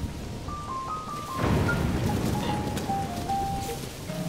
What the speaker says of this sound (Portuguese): Pra ajudar, tá chovendo.